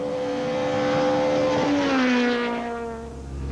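A Toyota rally car driving a gravel stage of the Sasol Rally in South Africa, its engine loud and close, holding a steady high revving tone and rising in pitch before easing off as it moves away.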